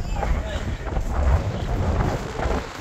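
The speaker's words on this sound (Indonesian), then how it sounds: "angin kuat sangat" Strong wind buffets the deck of the Genting Dream cruise ship at Port Klang, a dense continuous roar and rumble blowing across the microphone, with a voice speaking underneath.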